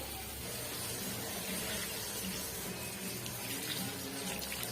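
Water running steadily into a pot for matar nimona gravy, a continuous close splashing and gushing flow like a tap filling, with no speech.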